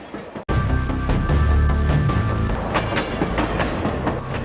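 A cartoon train running on its tracks, with a loud continuous rumble and clatter that starts abruptly after a short silent moment, with faint rhythmic clicks and a thin high tone over it.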